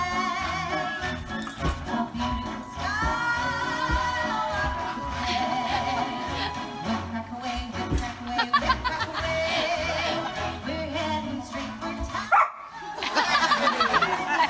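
A dog barking and yipping playfully over loud upbeat dance music, joined by scattered laughter and occasional voices, with the barks mostly blended into the steady music.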